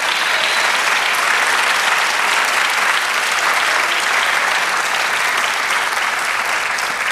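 Church congregation at a Spanish-language service applauding, a dense, steady wash of loud clapping from a large crowd that holds evenly for several seconds with no talk above it.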